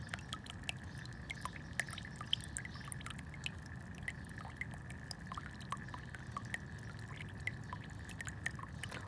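Water is poured and gathered into a container, a faint steady trickle with scattered small drips and splashes that runs unbroken for several seconds, with no voices.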